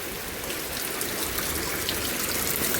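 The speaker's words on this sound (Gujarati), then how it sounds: "આખું ખેતર ભરાઈ ગયું," Floodwater fills a farm field after heavy rain in Mahuva taluka, a steady broadband wash of flowing and splashing water, close and continuous with no voices.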